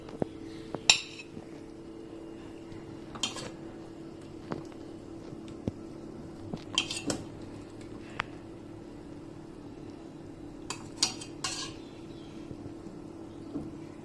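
Chicken curry in tomato and coconut milk gravy being served, with scattered light clinks of dishes and cutlery, a few sharper taps standing out over a quiet steady background hum.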